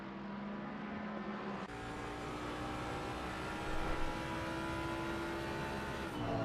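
Race car engines of a Porsche and a Mustang in a racing sim game drone continuously, a steady high whine with shifting engine pitch and a brief surge mid-way, no voices over it.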